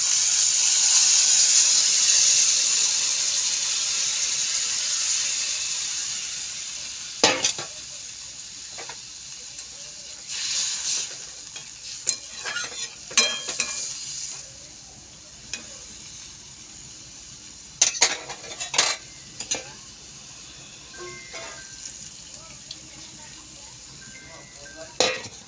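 Water poured into a frying pan of fish sets off a loud sizzling hiss that fades over several seconds, then scattered clinks and scrapes of a utensil against the pan punctuate a softer steady simmer.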